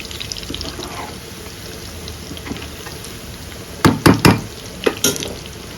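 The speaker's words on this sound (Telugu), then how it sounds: "సో ఇవి ఇంకొక మూడు నిమిషాలు వేగల్లా వేగే వరకు వెయిట్ చేద్దాం" Mutton keema balls fry in hot oil in a pan, making a low, steady sizzle that is joined later by several loud, close clinks and scrapes as the balls are turned and stirred.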